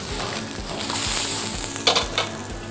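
Steady sizzling of chicken frying in a pan, with a brief burst of louder crackle and spatter near the end.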